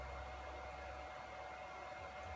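A Bridgeport J2 milling machine driven by a ClearPath servo motor spins at 1,100 RPM, giving a faint, steady motor hum and whir with no pauses.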